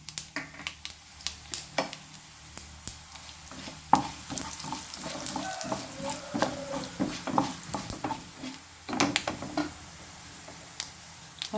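Coriander seeds and mustard seeds fry in a hot pan with a soft sizzle and frequent sharp, irregular pops and crackles, heard close and alone.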